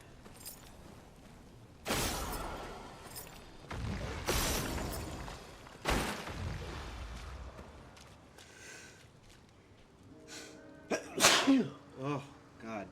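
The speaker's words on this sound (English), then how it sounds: "and just keep sneezing." Several loud sneezes come in quick succession, each a sharp broadband burst spaced about two seconds apart, followed by softer game effects and chimes near the end, during play of Clair Obscur: Expedition 33.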